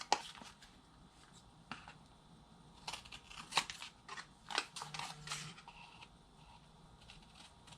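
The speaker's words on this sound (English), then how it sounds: "all I'm doing is cutting my paper at the angle here" Scissors snipping through paper at an angle while trimming a cover sheet over chipboard for a desk calendar, a series of short crisp cuts and rustles with brief pauses between them, close and fairly quiet.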